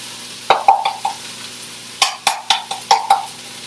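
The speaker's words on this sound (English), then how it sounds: "we're also going to go ahead and stir in our frozen corn" Frozen corn being stirred into sweet potato burrito bowl filling in a pan, with two bursts of close, sharp scraping and clattering strokes over a faint sizzle.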